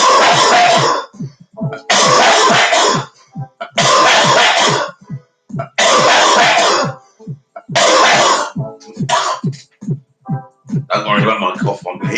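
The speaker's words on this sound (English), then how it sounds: "Don't worry about my cough, I'm healing myself up." A man coughing and clearing his throat in a run of harsh, loud bursts close up, each fit lasting about a second and separated by short breathy gaps, repeating roughly six times.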